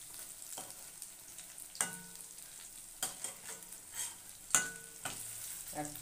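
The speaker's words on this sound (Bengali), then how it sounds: "আর এখন আমি ফুলকপির চপটা ভাজছি, এক পিঠ করে ভাজা হয়ে গেছে" Battered cauliflower chops made with gram flour fry in hot oil, giving a quiet, steady sizzle broken by several sharp scrapes and clinks as the pieces are stirred and turned.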